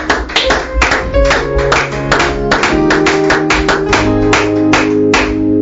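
A church congregation claps together in a steady, loud rhythm during worship, with sustained music tones running beneath the close, continuous claps.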